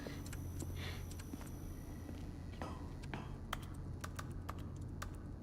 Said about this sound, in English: my clicking gets echoey in here